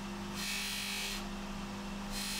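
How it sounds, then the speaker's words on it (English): Light polishing of a vintage chronograph watch bezel on a buffing wheel: a steady motor hum runs under two bursts of soft, hissing friction as the bezel is pressed to the wheel and lifted away. "Same thing on the bezel, just a, a light polish again."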